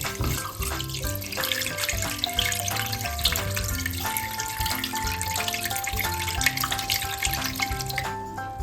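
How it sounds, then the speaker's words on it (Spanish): A litre of milk pours steadily into a pot, a continuous close liquid stream, with background music playing over it. "Vamos a poner 1 litro de leche."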